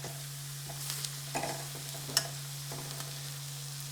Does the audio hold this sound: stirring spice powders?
yes